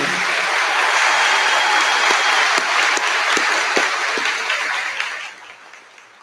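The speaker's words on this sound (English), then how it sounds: "Could I have another round of applause for all of our winners this evening?" A scholarship ceremony audience applauds its class of 2024 winners with loud, full clapping and a few sharp individual claps, before the applause tapers off at the end.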